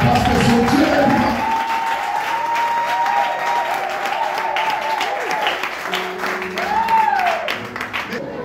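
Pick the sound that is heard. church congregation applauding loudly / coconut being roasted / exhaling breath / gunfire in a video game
church congregation applauding loudly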